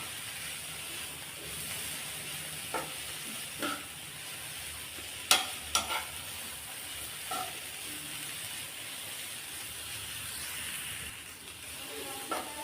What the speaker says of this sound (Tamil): எல்லாத்தையும் சேர்த்து நல்லா கலந்து விட்டுறலாம்.